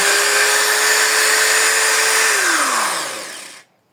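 A Tekhmann TED-650/2 DFR cordless drill screwdriver runs at a steady whine for more than three seconds with no voices, then winds down and goes quiet.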